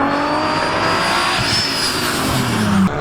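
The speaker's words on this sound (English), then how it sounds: "you can see the cars speeding up" Race cars accelerate hard out of a downhill turn at a South African time attack track, engines loud and close with a rising roar and a brief tire squeal near the end, with no talk.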